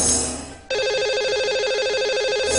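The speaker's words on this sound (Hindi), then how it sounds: "आइए उन्हें नंबर लगाते हैं।" Telephone ring tone heard while a radio host dials a lucky caller, a steady electronic trilling ring that starts after a brief fading tone and continues unbroken, loud and close, with no talking.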